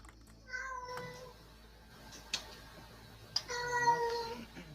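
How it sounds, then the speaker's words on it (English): A cat meows several times in drawn-out, wavering cries, fairly close and clear over a steady low background hum, with a couple of sharp clicks between the calls. "It's a cat."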